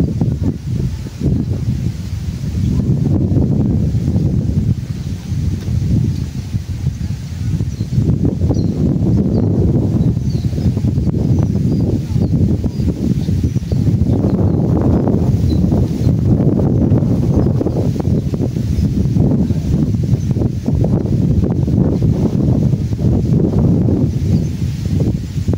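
Strong northeast monsoon wind buffets the microphone outdoors by the water on a fishing outing, a loud, continuous low roar with gusting swells and no talking.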